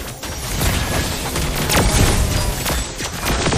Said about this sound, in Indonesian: Satu tembakan, satu nyawa melayang.